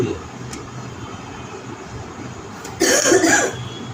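A single harsh cough bursts out near the end, close and fairly loud, after several seconds of quiet room background.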